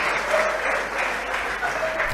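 An audience at a church gathering bursts into dense, continuous clapping, loud and close, a sustained wash of applause with no voices standing out.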